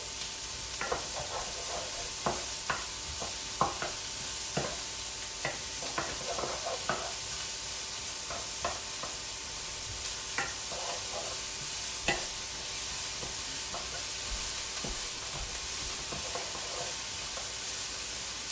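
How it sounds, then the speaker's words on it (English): Onions fry in a hot pan, a steady constant hiss broken by scraping and stirring clicks, close up, with no talking. "fry you these needed onions up till they're kind of translucent"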